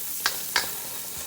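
Garlic sautés in a pan while crab with coconut milk is being cooked: a steady close sizzle, broken by two brief clicks or scrapes from the pan.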